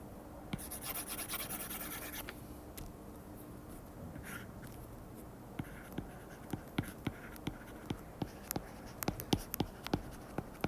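Handwriting during a math tutorial on vectors of random variables: a scratchy rubbing stroke early on, then a series of quick, light taps and scrapes of pen on a surface, close and fairly quiet, with no talk.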